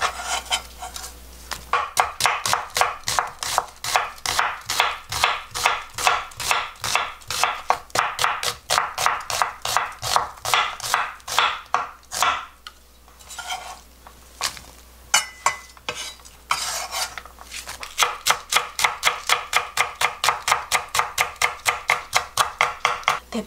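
Knife chopping an onion on a cutting board in fast, steady, crisp strokes, close and loud, with a brief pause midway before the rhythmic cutting resumes.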